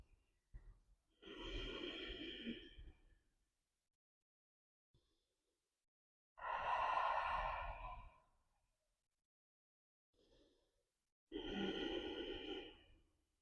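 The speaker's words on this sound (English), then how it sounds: "You keep breathing in and out." Slow, deep breaths during a yoga session, three long audible exhalations like sighs spaced several seconds apart, with faint inhales between them, close and alone without talk.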